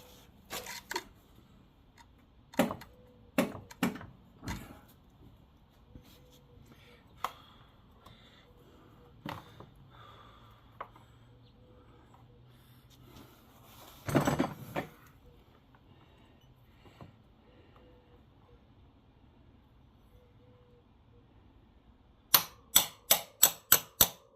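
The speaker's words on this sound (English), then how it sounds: "I'm just lifting up with one hand on the wheel while I slide the axle in." Scattered sharp metallic clicks and taps come from a front axle being slid into the wheel of an Aprilia Tuareg 660 motorcycle, with a denser burst of quick clicks near the end in an otherwise quiet space.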